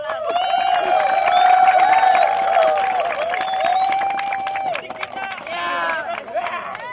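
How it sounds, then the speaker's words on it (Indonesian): A large crowd at an event applauds loudly and cheers, with high, shrill voices whooping over the clapping and a busy babble of people throughout. "Tepuk tangan yang meriah."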